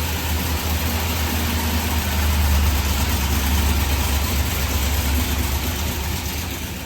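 A 376ci LS V8 running on a dyno idles steadily, a loud, even low rumble with constant vibration and no breaks, with no voices over it.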